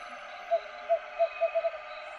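A bird calls in a forest on a mountain climb, a series of six short, soft hoots at slightly uneven intervals over a faint, steady background hum.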